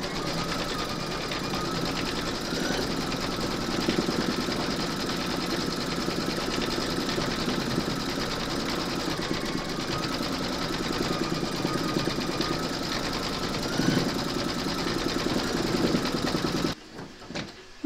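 An embroidery machine stitches the bone detail of a skeleton applique in round four with matching thread and bobbin. It gives a long, even, close mechanical hum and fine rapid needle clatter that stops abruptly near the end.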